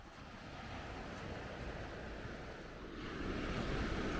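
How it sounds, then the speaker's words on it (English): Surf washing onto Kennedy Sands, a Cornish beach on the coast path between Marazion and Porthleven, a faint, steady broadband roar with wind, swelling slightly louder toward the end. "here we have another stunning beach"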